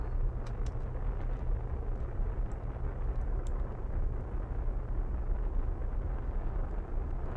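A rocket engine in the Starshot video game fires with a steady, loud low roar that holds without a break, a few faint clicks riding on top.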